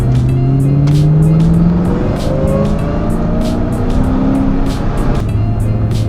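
A 2006 Ford GT supercar, 3,300 pounds, accelerates hard, its loud engine note climbing through repeated upshifts, each gear sweeping upward before a brief dip, close and dominant with no talk.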